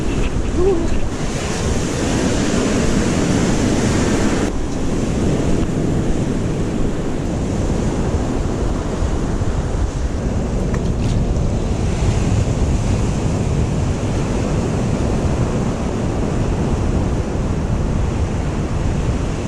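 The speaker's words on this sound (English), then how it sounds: "Look at that wind." Strong wind roars across the microphone at Tresaith Beach in Wales while surf rumbles underneath, a loud and steady wash of noise with no break.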